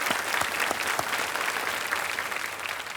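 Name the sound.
studio audience applause on KBC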